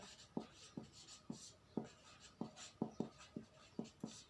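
A lesson on the layout of the Earth's interior comes with chalk strokes on a board: about a dozen quick, soft taps and scratches at an uneven, rapid pace, fairly faint.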